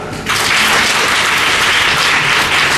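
An audience claps for a participant at an IAS coaching session, a dense burst of many hands that starts suddenly and stays loud and steady throughout.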